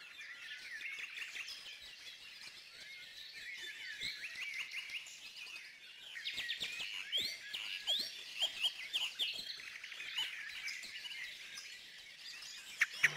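Tit and blackbird calls at a feeding spot: bright, thin chirps and twittering notes, faint to moderate, with busier clusters of calls midway and a couple of sharper clicks at the end.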